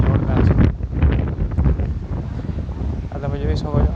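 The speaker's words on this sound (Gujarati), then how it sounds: "અને પવન એ જોરદાર છે" Strong wind buffets the microphone at Mandvi beach in Kutch, a loud steady rumble running throughout with a few brief sharper sounds mixed in.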